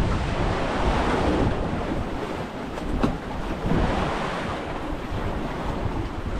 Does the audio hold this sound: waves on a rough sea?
yes